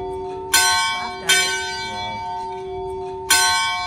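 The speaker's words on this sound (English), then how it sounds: "we were jolted out of our Zen vibe by the clanging of the church bells right over our head" Three loud church bell strikes directly overhead in Milfontes, Portugal, each ringing out with long resonant overtones that hang in the air between hits.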